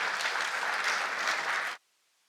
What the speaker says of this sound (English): Can we give a hand of applause to Rocher?